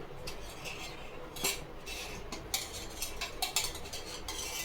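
Gongura leaves and green chillies fry in a spoonful of oil, a spatula clattering against the pan in repeated scrapes and knocks above a low, steady sizzle.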